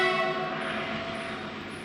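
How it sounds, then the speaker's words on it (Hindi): A train passing nearby, a steady loud rumble with tonal horn-like droning throughout, heard alone. "ट्रेन जा रही है"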